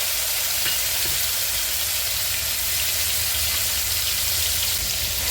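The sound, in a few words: cabbage with peas, tomato and chili frying in pan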